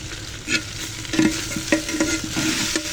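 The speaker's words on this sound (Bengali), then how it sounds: "সর্ষে আর শুকনো লঙ্কার ফোড়নে" Mustard seeds and dried red chili sizzle in hot oil as a tempering, a close, busy crackle broken by sharp pops and the scrape of stirring.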